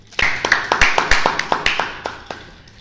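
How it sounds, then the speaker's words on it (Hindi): About a dozen sharp, evenly spaced claps at a family gathering ring out close and loud, a small group clapping in a quick steady rhythm that fades at the end. "बहुत सारी तालियाँ"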